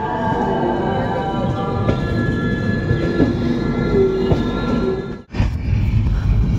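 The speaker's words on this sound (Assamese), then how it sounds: "ট্ৰেইনটো চাওক এটা লাইনৰ পৰা এটা লাইনলৈ গৈ আছে" A Rajdhani Express train rumbles steadily along the tracks nearby, crossing from one line to another, loud and continuous with faint clacking, followed by a sudden brief dip and then the rumble resumes.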